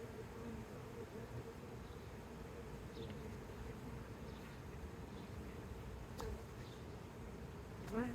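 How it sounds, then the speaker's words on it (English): Honey bees in a rescued swarm hive in Washington, DC hum continuously at close range, a soft, even drone with occasional faint clicks and rustles over it. "There's so many bees in here"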